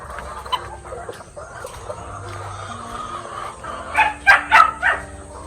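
RTL chickens clucking in a backyard coop, soft continuous low clucks with a run of louder, sharper calls near the end, no talking.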